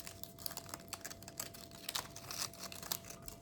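Aluminium foil is crinkled and squeezed into a ball by hand, giving quiet, close, irregular crackling bursts that continue throughout, with no talking.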